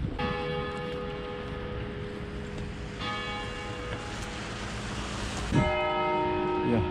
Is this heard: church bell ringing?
yes